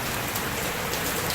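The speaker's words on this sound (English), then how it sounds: "it is raining. You can't see it, but I'm sure you can hear it." Steady rain pours down outdoors in South Florida, a dense, even hiss of drops striking surfaces with no breaks, loud and close.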